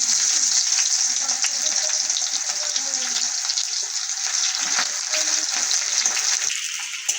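Chopped onions with a bay leaf frying in hot oil in a kadai, a loud close continuous sizzle with crackling bursts and a quieter low stir near the end, no voices.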